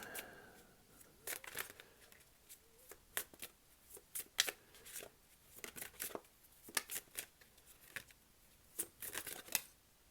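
Tarot cards being shuffled for a reading: quiet, crisp riffles and snaps come in irregular bursts, with faint rustling in between and no voices.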